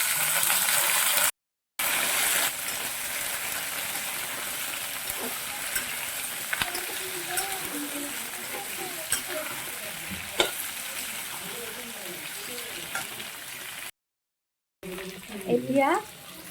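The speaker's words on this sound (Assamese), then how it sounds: "মই একেলগে অমিতা আৰু আলুখিনি ভাজি ল'ম।" Papaya and potato pieces fry together in a pan for an Assamese papaya chicken curry, giving a steady sizzle with scraping stirs and clinks throughout, briefly cut by two short gaps.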